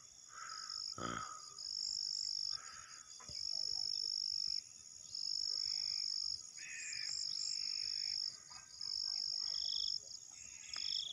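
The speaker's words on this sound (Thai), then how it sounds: "มีกบหลายตัวพี่น้องมีกบหลายตัวอยู่นอกอยู่นี่เนาะ" Frogs croak beside a greening rice field in Bueng Kan, Thailand, their repeated calls rising and falling over a constant high-pitched insect chorus, with one sharp close thump early on.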